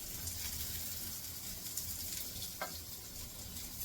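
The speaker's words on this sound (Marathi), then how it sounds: "राहिलेला मसाला पण असा इथे तव्यावर परतून घेते कांद्यामध्ये मिक्स होऊन जाईल सगळं" Leftover masala and onions sizzle steadily as they are sautéed on a tawa, a continuous low frying crackle with a faint scrape of stirring.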